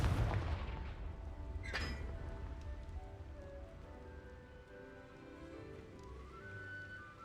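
A Confringo blasting spell explodes in the video game Hogwarts Legacy: a heavy boom at the start, a sharp crack shortly after, then a long rumbling, crackling tail that slowly fades.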